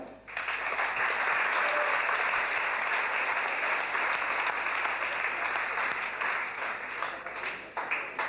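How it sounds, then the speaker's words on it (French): An audience applauds a category winner at a store inauguration, with steady, dense clapping that holds at an even level and tapers slightly near the end. "Je vous demande de l'applaudir"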